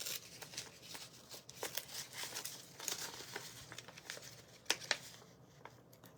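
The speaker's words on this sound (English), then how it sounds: "So let me tear this last one." Paper torn by hand at a crafting table, a steady crinkly rustle building into a few sharper ripping bursts near the end, close and fairly quiet, with no talking.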